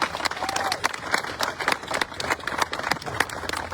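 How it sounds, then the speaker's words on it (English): Crowd applause for a town supervisor at a political press event, irregular clapping that rises and falls, with voices mixed in underneath. "Let's get up and have a round of applause for the great supervisor of the town of Babylon, Rich Schaefer."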